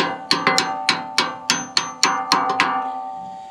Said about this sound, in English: Now I just need to remove these four carriage bolts here.